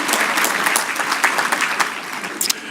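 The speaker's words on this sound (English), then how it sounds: "Good job, clap for yourselves" Brief burst of audience clapping at a ceremony after an Igbo call-and-response greeting, dense and lively with sharp individual claps standing out.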